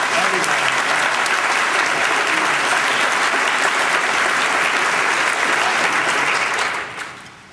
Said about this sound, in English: So can we get a quick round of applause?